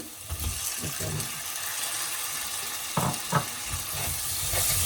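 Onions and tomatoes sautéing in a pan for a village-style Sri Lankan mud crab curry, with a constant close sizzle broken by scraping stirs and a few clunks.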